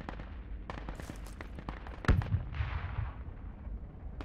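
Enemy soldiers fire in the Project Reality military game during a Russian infantry push: scattered gunshots crack in quick bursts, mostly distant, with one louder report partway through over a rumbling battlefield backdrop.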